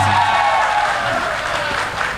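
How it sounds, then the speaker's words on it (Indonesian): A public debate audience applauds steadily, a dense, even patter of many hands clapping that stays close and loud throughout. "Untuk nomor 1 kita beri tepuk tangan sekali lagi."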